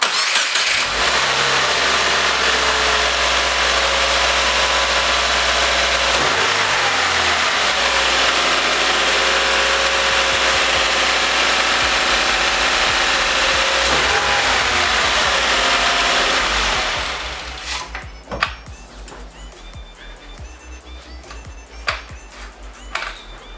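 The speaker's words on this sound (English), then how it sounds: "So I just let the car run for a little bit" A car engine runs at a steady idle right after an oil change with a prefilled oil filter, a loud, continuous hum that cuts off near the end, leaving quiet clicks and faint ambient sounds.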